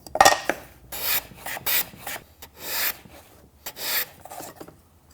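A hand plane works a wooden box component for a dovetail box, giving about six close, crisp shaving strokes in an uneven rhythm with short quiet gaps between them.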